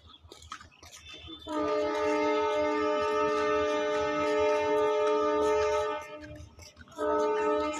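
A train bound for Guwahati at Naugaon station sounds a loud, sustained horn chord for about four seconds, breaks off, then blasts again, over the rumble and clatter of the train and platform noise.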